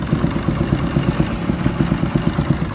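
A Kawasaki Barako 2 motorcycle engine runs with its carburetor, a loud, close, steady idle with a rough, rhythmic clattering throb.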